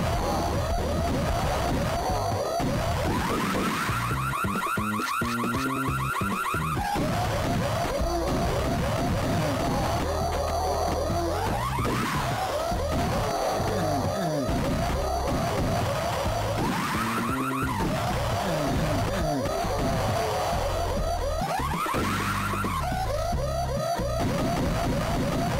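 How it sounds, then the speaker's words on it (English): Loud, continuous looping alarm tone from the Game Boy Advance game Max Payne, a wavering electronic pattern repeating over crashes and game effects for the whole stretch. "see if we can turn off this alarm, because I hate this"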